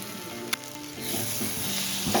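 Chitol fish masala sizzling steadily in a pan while being stirred, a dense frying hiss with a sharp scrape or knock near the start and louder sizzling in the second half, no voices.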